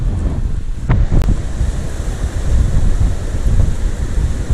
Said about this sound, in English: The wind is really strong. It's blowing me off course quite a lot